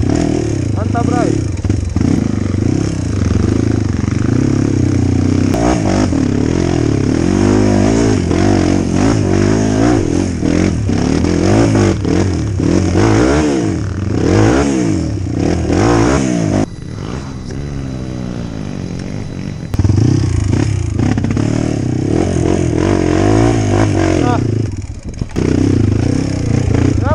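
A motorcycle engine revs and roars continuously up close on a muddy trail, rising and falling with throttle, with clattering and people talking over it.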